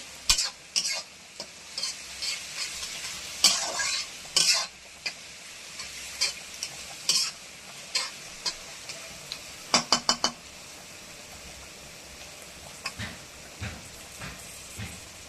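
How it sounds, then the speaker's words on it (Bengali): Onions fry in a pan until browned, giving a quiet continuous sizzle broken by repeated sharp scrapes and clinks as a spatula stirs them, in irregular bursts close by. "পেঁয়াজটা লাল করে এবার ভেজে নেব।"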